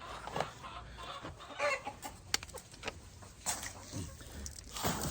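Gamefowl chickens cluck nearby in their pens as feed is tossed to them from a can, soft irregular clucks with scattered rustles and brief sharp knocks.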